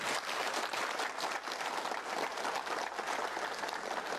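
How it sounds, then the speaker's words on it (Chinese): Steady, dense audience applause at a gathering for a Buddhist master's talk, a full room clapping continuously and fairly loudly throughout, with no talk over it. "鼓掌"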